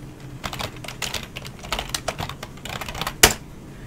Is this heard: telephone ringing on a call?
no